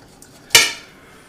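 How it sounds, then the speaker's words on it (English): A single sharp clink of a utensil against a pot while a cooked potato is cut in half inside an Instant Pot, one brief bright hit that decays quickly, with no talking. "let me just cut this in half and see how it looks"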